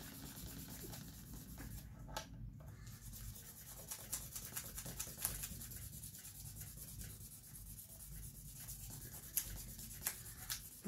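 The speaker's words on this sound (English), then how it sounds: "Take fine sandpaper and bring it down with a piece of," Fine 1200-grit sandpaper rubs against an aged French maple violin bridge blank, a soft steady scratchy rasp close by that continues through the clip with small strokes and brief pauses, no speech.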